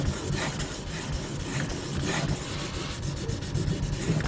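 A Mora bushcraft knife blade rubs in steady, repeated strokes across a wet sharpening waterstone, a close, even gritty scraping with no talk.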